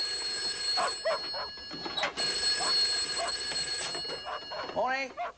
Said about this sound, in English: Telephone, Jane.